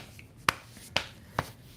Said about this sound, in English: Arm slapping like this.